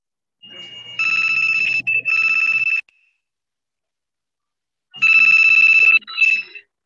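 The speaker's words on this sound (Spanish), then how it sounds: "Está sonando ahí. ¿Alguien puede contestar ese teléfono?" A telephone rings in two electronic bursts, each about two seconds long with a short break inside, separated by a pause of roughly two seconds. The ringing is loud and close, heard during a church sermon, with no speech over it.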